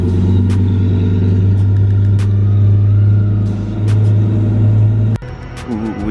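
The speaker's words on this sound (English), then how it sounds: "So let me turn on the car." A single-turbo Infiniti G37 Coupe engine idles at close range with a steady, loud low drone, then cuts out sharply near the end, leaving quieter ambient noise.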